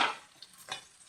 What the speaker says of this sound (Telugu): వేసుకుని దోరగా వేయించుకోవాలన్నమాట.